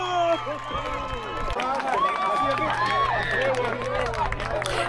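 Stadium crowd at a Belize national soccer match cheering and shouting after the first goal, a dense, sustained roar of voices with whistles and calls rising over steady background hubbub.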